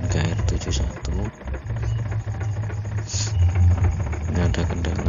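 An Isuzu NKR 71 truck engine runs rough and cannot hold a steady idle, a close uneven rumble with knocking, while someone talks over it.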